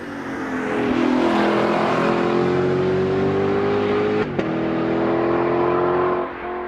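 A Lexus LC 500 convertible's engine revs up with a smooth rising note, briefly breaks around a gear change, then keeps pulling loud and close before easing off.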